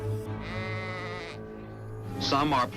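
A sheep gives one long, wavering bleat, then a voice begins speaking right after.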